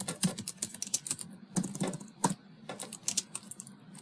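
Java code being typed on a computer keyboard, quick irregular clicking keystrokes in short bursts with brief pauses, close and fairly quiet.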